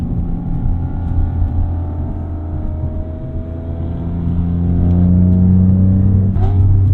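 An E46 BMW M3 engine drones loudly and steadily, its pitch climbing as it builds revs, with a throaty intake roar swelling toward the end.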